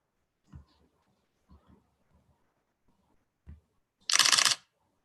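A Fujifilm X-T4 mirrorless camera's mechanical shutter fires once, a single crisp, close burst of clatter following a few quiet taps and handling noises.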